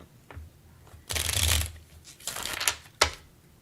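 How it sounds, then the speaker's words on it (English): Reading cards being shuffled by hand during a spiritual oracle reading session, with several quick riffling bursts, one long and a few shorter, close and fairly loud, with no talking. "do a quick shuffle."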